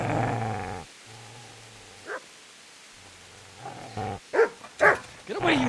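In the medieval game Kingdom Come: Deliverance, a dog lets out a low growl before a few short, sharp barks and whimpers break out near the end, with quiet gaps in between.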